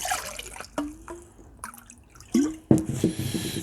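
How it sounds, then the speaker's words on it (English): Water splashes and trickles into a container nearby, with a few drips and clinks, ending in a louder gurgling pour. "Throw some water in the cup here."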